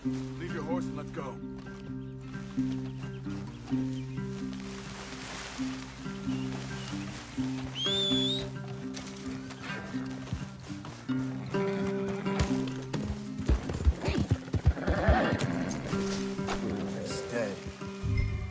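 Horses whinny and hooves clop in Red Dead Redemption 2, with a high neigh rising near the middle over steady background music and voices talking.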